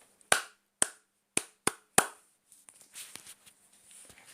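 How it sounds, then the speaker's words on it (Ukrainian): Five sharp hand claps ring out at an uneven pace, followed by soft rustling and shuffling noises. "Це плескаємо ми в долоньки"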